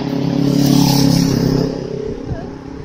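Street traffic in Sydney during lockdown: a loud, close vehicle rumble that swells and then slowly fades, with a few faint clatters near the end.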